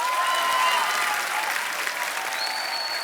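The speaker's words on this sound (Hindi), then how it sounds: "जोरदार तालियां हो जाए।" Studio audience applause at a televised mushaira-style comedy stage show, a dense, steady wash of clapping from many hands held at an even level for about three seconds, with faint tonal background sounds.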